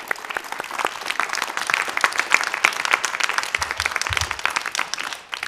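An audience applauds at a television talent show after a young performer of a Kyrgyz epic song, with dense, sustained clapping that begins at once and fades near the end.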